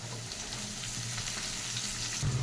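Chopped onion sizzling in hot oil with frying potatoes, cinnamon and cardamom, a steady dense crackle that continues evenly throughout with a low hum beneath.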